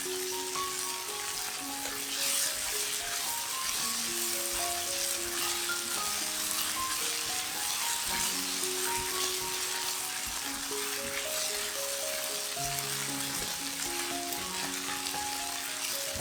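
Potato filling with ketchup and chili sauce stir-fried in a pan, a steady close sizzle with scraping and tossing throughout, no talk, while a light melodic tune plays along.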